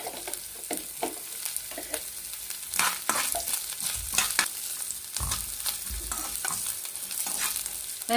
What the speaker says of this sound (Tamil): நல்லா நெய்யில் நல்லா வறுத்து எடுத்துக்கோங்க